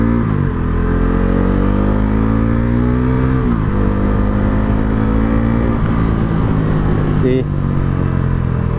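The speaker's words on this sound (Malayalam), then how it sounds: "അത്യാവശ്യം നല്ല പവർഫുള്ളായിട്ടുള്ള എൻജിൻ തന്നെയാണ്, അതിൽ യാതൊരു സംശയം വേണ്ട." A Bajaj Pulsar NS400 engine on the road runs loud and steady, its pitch climbing and dipping as it revs, with a brief sharp shift near the end.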